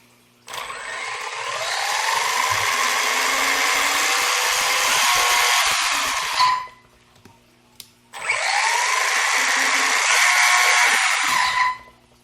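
A Kyosho Rage VEI electric RC car on a 2S LiPo runs on test after a spur gear change: a loud, high motor whine rising in pitch through a long run of about six seconds, then a pause and a second shorter run.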